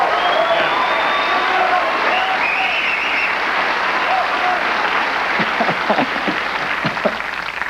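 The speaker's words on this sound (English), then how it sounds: "How's about some nice applause for Les?" A studio audience on a 1992 late-night talk show applauds steadily and loudly throughout, with a few faint cheers and a voice briefly audible under the clapping near the end.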